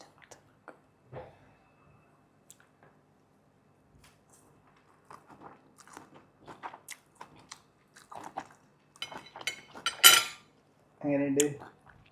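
Shrimp cooked with water spinach and garlic being eaten, with soft, intermittent chewing and crunching close up, a few utensil clinks against a dish, and brief quiet gaps between bites.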